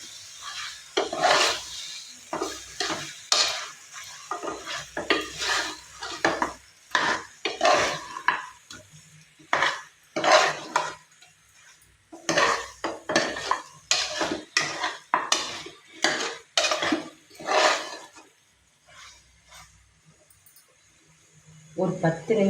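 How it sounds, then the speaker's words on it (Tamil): Mutton curry stirred and sautéed in oil in a pan on medium flame: repeated scraping and clanking strokes of a spoon against the pan in uneven bursts, close, with a voice speaking at times. "இந்த எண்ணெயிலே கொஞ்சம் நேரம் நல்லா வதங்கி திரண்டு வரட்டும், உருண்டு வரட்டும் கறி."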